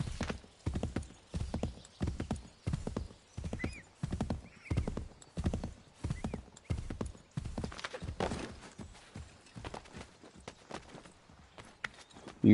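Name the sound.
horse galloping in video game Assassin's Creed 3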